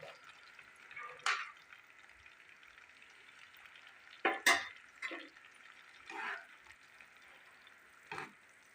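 Ghee in a pan while mihidana fries gives a soft sizzle with several short, sharper crackling spurts spaced irregularly over quiet background.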